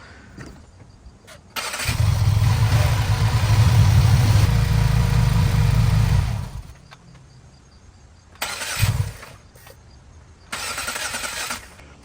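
A 2015 Subaru WRX engine starts and runs for several seconds at a steady medium drone, then shuts off, followed by a couple of shorter bursts of mechanical noise nearby.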